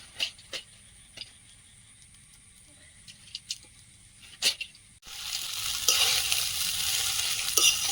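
Chicken chowmein stirred in a pan as black pepper is sprinkled in, village-style cooking: sparse scraping clicks at first, then a steady loud sizzle from about five seconds on, with no talk.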